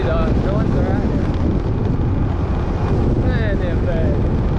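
Strong, constant wind roaring into the microphone while riding a motorbike on a trip through Vietnam, a dense rushing buffet with no pauses and no talk.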